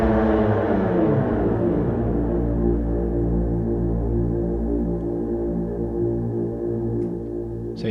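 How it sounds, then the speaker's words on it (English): The Soul Drop preset from Lunacy Audio's Cube Phantoms expansion plays as a dark, low synth drone, with descending layered tones that thin out and fade over several seconds. "So yeah, that's Soul Drop, the preset in Lunacy Audio's Cube."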